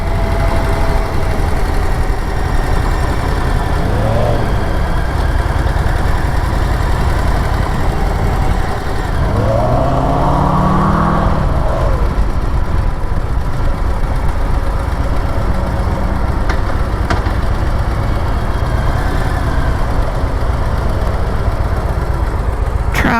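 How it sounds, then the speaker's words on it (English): A car engine idles in stop-and-go traffic at the intersection of FM 1960 and US 59 in Humble, Texas: a steady low rumble fills the whole stretch, with other vehicles swelling past nearby and no talk. "Traffic sucks."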